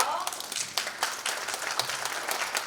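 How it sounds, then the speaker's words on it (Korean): Audience applause welcoming the representative president of a Christian federation to the podium at a Korean meeting, steady clapping with scattered sharper claps running throughout, fairly distant and moderately loud, with faint voices underneath. "네, 박수로 맞아주세요."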